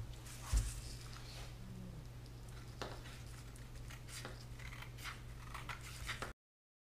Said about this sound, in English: I'm ready to do some cutting